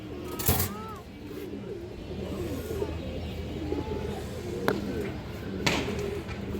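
A female Kaldom high-flying pigeon coos in soft, low bursts close by, with a few sharp knocks and someone talking over the background.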